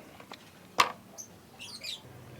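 A lovebird just after its bath, set out in the sun to dry, gives a few brief, faint chirps, one sharper than the rest, against quiet surroundings.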